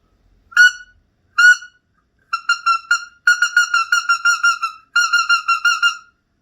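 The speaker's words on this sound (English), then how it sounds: "That's a wood duck." A wood duck call blown as a whistle gives thin, rising squeals, first two single notes and then rapid runs of repeated chirps, close and clear with nothing else behind them.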